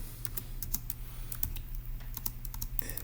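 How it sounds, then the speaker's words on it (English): Keys clatter on a computer keyboard as notes are typed up during a logic puzzle, a quiet, close run of quick irregular keystrokes with no voices. "let's go ahead and type that up in our notes"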